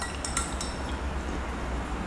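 A metal spoon stirs a sweetened iced coffee drink in a glass, giving a few light clinks in the first half, then a low steady background hum.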